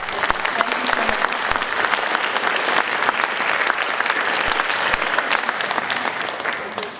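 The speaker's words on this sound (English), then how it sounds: "let's give them a round of applause" Steady, dense applause from a large audience at an adult education graduation ceremony, a continuous clatter of many hands filling the hall for several seconds.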